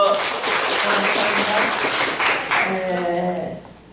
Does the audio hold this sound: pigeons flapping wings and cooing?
no